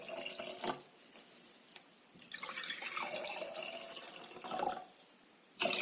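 Cooled boiled water pours into a glass jar, heard as close dripping and trickling splashes with a steadier pour in the middle and a brief burst near the end.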